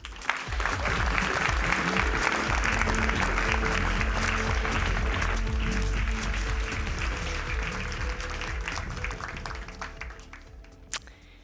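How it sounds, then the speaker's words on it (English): Conference audience clapping for a speaker at a textile-industry event, a dense, loud round of applause that holds steady then gradually thins and fades near the end. "Give a round of applause for Anna Jedda."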